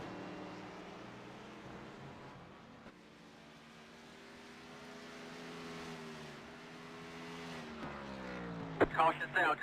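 Race cars lapping Watkins Glen in a racing game, with engine tones rising and falling steadily at moderate level under a commentator's voice, and a sharp burst of noise near the end.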